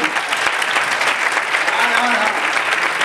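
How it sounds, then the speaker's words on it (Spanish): An audience applauds steadily at a talk about a generation shaped by the economic crisis, dense clapping filling the room throughout with a faint voice underneath. "Yo creo que eso merece un aplauso."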